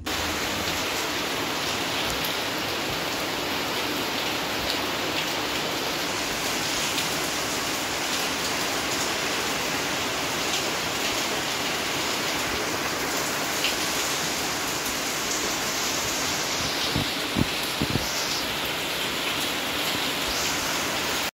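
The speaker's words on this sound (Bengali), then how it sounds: "দুপুরবেলা বলতে বলতে মানে বিকেলের দিকে বৃষ্টিটা এসছে" Steady afternoon rain falls in a continuous broadband hiss, loud and even throughout with no voices, a few brief louder drips or knocks near the end.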